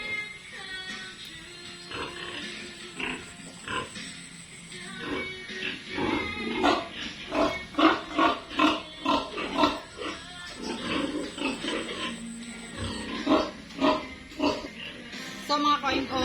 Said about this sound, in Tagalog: So nag-ingay yung barako ko na si Michael